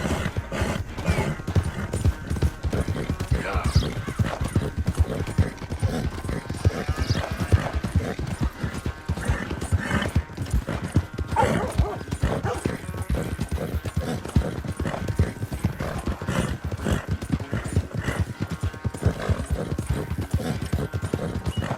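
Horse hooves galloping in Red Dead Redemption 2, a fast, continuous clip-clop rhythm close up through the whole stretch, with light tack and gear rattles and occasional background voices.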